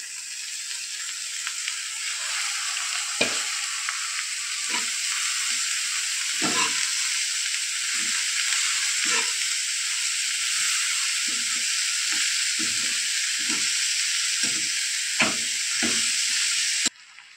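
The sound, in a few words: coriander and chopped cabbage frying in a pan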